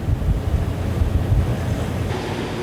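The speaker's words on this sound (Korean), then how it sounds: "현재 파도는 3에서 4m, 풍속은 초속 14m" A stormy sea at midnight, with waves of three to four metres and wind at fourteen metres per second. Heavy, constant roaring surf and gusting wind buffet the boat and microphone in a dense, low rumble with no voices.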